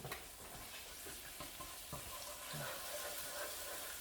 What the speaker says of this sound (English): I'm just going to mix this one around until it's fragrant